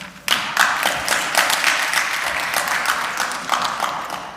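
Applause in an Armenian parliament session, a sudden burst of many hands clapping that holds steady and dense, then slowly thins toward the end.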